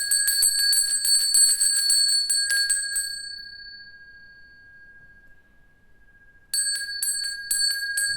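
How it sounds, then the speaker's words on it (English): Tibetan dragon bell rung in bright, shimmering strokes, then left to sustain one long fading tone before it is struck again; close and clear, with no talking. "This is my Tibetan bell, my dragon bell."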